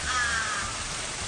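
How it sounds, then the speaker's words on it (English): A crow caws once, a short harsh call that is close and clear, standing alone with no talking over it. "Crow."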